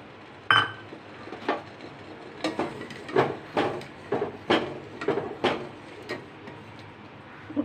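Milk being poured and mixed into a pot with a utensil while making misti doi, Bengali sweet yogurt; a series of sharp metallic clinks and taps at an irregular rhythm against quiet kitchen background, no talking.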